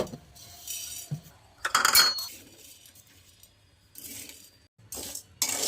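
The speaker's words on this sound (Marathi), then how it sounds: "आता ही मस्त भाजून घेणार आहे मी." Metal utensil clinks and scrapes against a pan while fasting-idli ingredients are dry-roasted together, several sharp intermittent clatters separated by quieter stretches of stirring.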